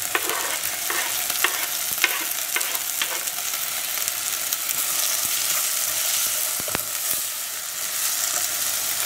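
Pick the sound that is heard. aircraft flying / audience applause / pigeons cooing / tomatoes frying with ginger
tomatoes frying with ginger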